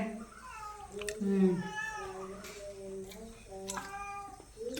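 A cat meows repeatedly up close, with long drawn-out, wavering cries, and a person's voice can be heard in between.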